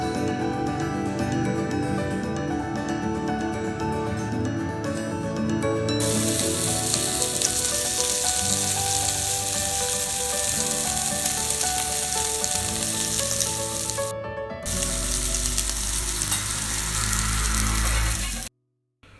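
Beef pieces sizzle loudly and steadily as they roast in a pan for a Sri Lankan oven-free beef steak, a continuous close frying hiss with no talking.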